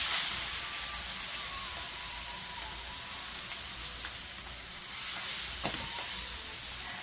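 Chicken frying in a big pan over a flame turned to its highest gives a steady, dense sizzle and hiss, close up, with a few faint clinks partway through.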